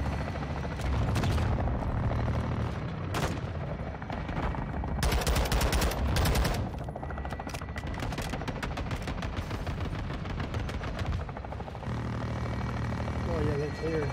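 Apache attack helicopter firing in Call of Duty MW2 combat, with sustained bursts of rapid gunfire and heavy booms over a constant rotor drone, dense and loud throughout, with voices talking underneath.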